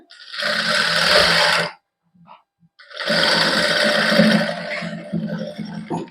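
Sewing machine stitching a shirt neckline, running in two loud, close, continuous bursts of fast whirring separated by a short pause with a few faint clicks.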